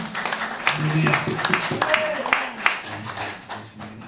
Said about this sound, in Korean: 우리 연합회 감사 박수 드립니다